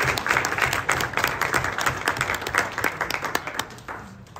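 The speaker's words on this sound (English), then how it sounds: "let's clap again for JB." Banquet audience at a high school boys cross-country awards night applauding, a dense, steady wash of many hands clapping that carries on for several seconds before tapering off at the end.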